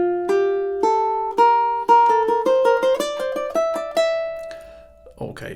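Ukulele playing the tricky closing phrase of a B melody section, a string of clear plucked single notes rising step by step at a moderate pace, each ringing briefly before the next, with a soft rustle at the end.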